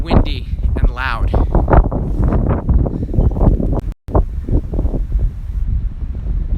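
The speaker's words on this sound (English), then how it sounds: "It's gonna get windy and loud." Wind gusts outdoors in Wakkanai, Japan, near the Wave Dome, roar and buffet a close microphone in a steady, loud rush, with a person talking over it throughout.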